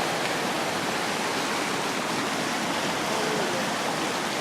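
A swollen river rushes through a ravine, its water running high enough to go rampant, making a loud, steady, unbroken roar of churning water that fills the whole stretch with no gaps.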